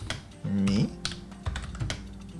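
Computer keyboard typing in a text editor's insert mode while writing a README file, with irregular close clicks and taps over a low background hum.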